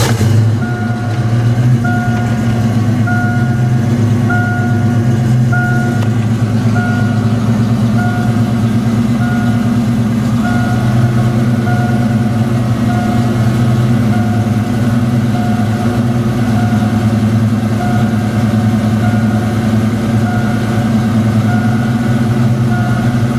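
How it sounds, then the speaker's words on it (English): A Foxbody Ford Mustang 5.0 idles steadily after a cold start at about 900 RPM. It gives a loud, continuous low drone with faint intermittent beeping tones above it, and no one speaks. "This is a cold start."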